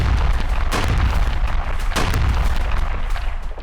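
Bombs explode during a bombardment in Gaza as a continuous roar of heavy booms and rumbling blasts, with sharper bursts standing out near one and two seconds, loud and dense throughout.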